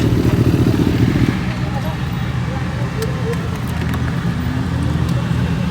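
Several motorcycles, including Kawasaki ZX-10Rs, rumble loudly up close as they are ridden in to park after an Independence Day group ride, with a strong burst at the start easing to a steady idling drone.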